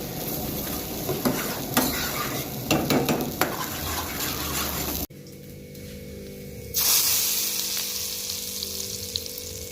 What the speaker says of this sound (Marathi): दाल तडका बनवणार आहे आपण आता एक पहिला दाल फ्राय होते